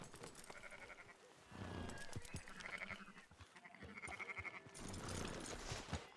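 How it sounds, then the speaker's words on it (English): Sheep in the Red Dead Redemption 2 video game bleat repeatedly at moderate distance, several wavering cries overlapping over low ambient game noise. "Fine sheep."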